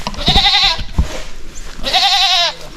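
A female goat bleats twice, loud and close, the wavering cries separated by a short gap filled with outdoor rustling and handling noises.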